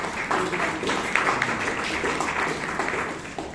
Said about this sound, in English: Let us give one more round time applause